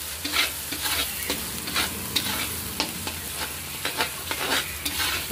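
Spice paste of salt, turmeric and dry chilli powder frying in oil, a steady close sizzle with repeated rhythmic spatula scrapes as it is stirred.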